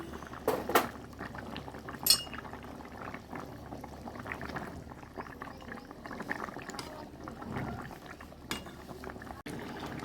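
Fish curry of katla fish with pointed gourd simmers in a pot, a low steady bubbling and hiss broken by a few sharp clinks of a utensil against the pot near the start and end.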